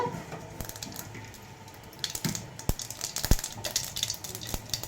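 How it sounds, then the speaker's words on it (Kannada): Mustard seeds spluttering in hot oil for tempering, a buttermilk curry seasoning, with a steady background sizzle punctuated by sharp, irregular pops and crackles, close up and with no talking. "ಸಾಸಿವೆ ಸಿಡಿತಾ ಇದೆ"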